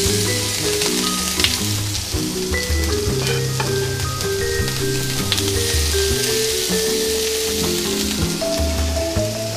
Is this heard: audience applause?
no